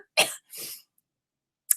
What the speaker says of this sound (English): I can't stop coughing